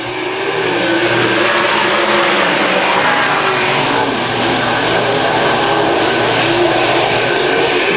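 Race cars roar off at a green flag start on an oval track, a dense loud wall of revving engines accelerating together and holding steady throughout.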